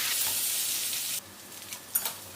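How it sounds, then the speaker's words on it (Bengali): Oil sizzles steadily and loudly as boiled, drained jackfruit fries, then drops to a quieter crackle with a few sharp spits and pops near the end. "এবার ভালো করে একটু ভাজা ভাজা করে নেব"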